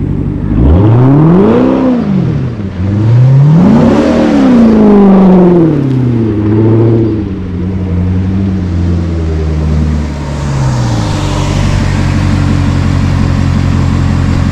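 Corvette with an automatic transmission doing donuts on a dirt road, its engine rising and falling in loud repeated revving sweeps close by, then settling into a steadier drone with a rushing hiss toward the end.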